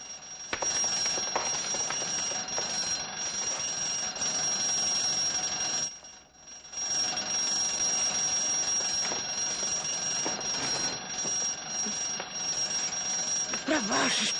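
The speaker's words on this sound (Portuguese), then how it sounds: "Estou ouvindo uma campainha" An electric school bell rings loudly and continuously, breaking off for a moment partway through before carrying on, in a 1973 film scene.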